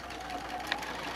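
A sewing machine runs steadily through a back tack of three or four stitches, a continuous close mechanical whir with one brief click near the end, no talking.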